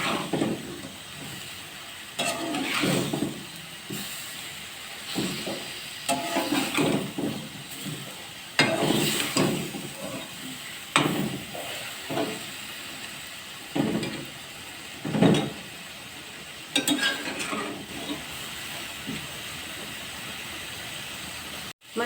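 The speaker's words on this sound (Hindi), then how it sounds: "मसाला और गोश्त जो है वो आपस में बहुत अच्छी तरह से मिक्स होकर फ्राई हो रहे हैं।" Meat, masala and onion frying together in a pot make a loud, steady hiss with repeated surges of sizzle, as if the food is stirred and turned throughout.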